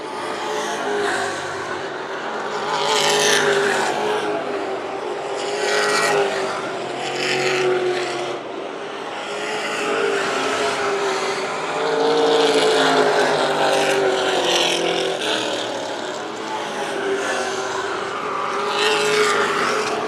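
Stock cars race around Hythe Motor Speedway in a WESCAR 100 event, their engines producing a continuous, loud roar that rises and falls as cars pass and rev, with no break across the laps.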